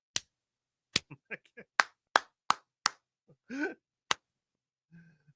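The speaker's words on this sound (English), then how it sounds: "Oh my God, he must practice the clapping." A man clapping his hands, with a handful of sharp, separate claps spaced irregularly across a few seconds, several of them quite close together, plus a short vocal sound and a faint low hum near the end.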